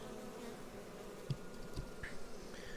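A low, steady buzz of Carniolan honey bees droning close by at an open hive, with a few brief louder passes rising above the hum; no voices.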